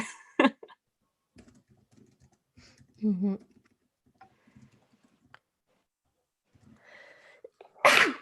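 A sharp sneeze near the start and another loud one at the very end, with faint murmured speech and soft clicks in between.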